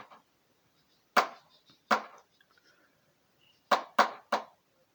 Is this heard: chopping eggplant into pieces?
yes